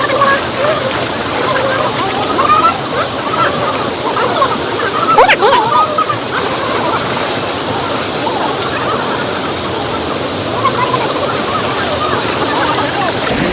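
The clear Bavali river flowing near the Kottiyoor temple gives a continuous, fairly loud rushing wash of water, with a person talking over it.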